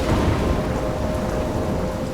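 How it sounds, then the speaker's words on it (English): Thunderstorm in the video game Life is Strange: steady, dense rain hiss with a low rumbling roar, loud and continuous throughout, no voices. "I'm trapped in a storm?"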